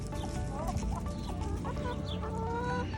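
A flock of chickens in a backyard chicken run clucks and chatters continuously, several birds overlapping at close range with busy, scratchy background noise.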